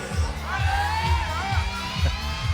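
A crowd at a climbing World Cup lead semi-final in Briançon cheers a French climber, a sustained roar of voices with whoops, while a commentator talks over it.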